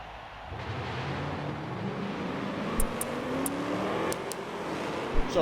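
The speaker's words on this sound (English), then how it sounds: "So as the cars go off for their pace lap" Race cars in a racing video game pull away on a pace lap at Homestead, a rising engine drone building steadily, with a few sharp ticks breaking in over the continuous roar.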